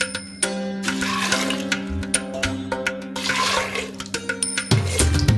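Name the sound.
water being poured into a pot of potatoes and black chickpeas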